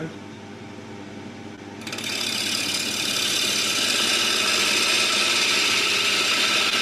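A woodturning lathe cuts timber as it spins up to 1000 RPM; a steady broadband whirring rises sharply about two seconds in and then holds loud and constant, with no talk.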